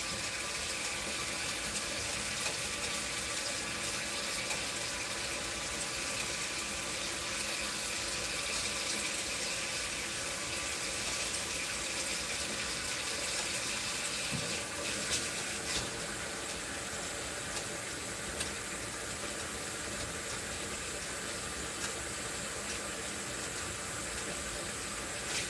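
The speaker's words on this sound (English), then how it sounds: "Yeah, I'm washing my hands." A tap runs steadily into a kitchen sink while hands are washed, a continuous close rushing of water with a slight change in tone partway through and no talking.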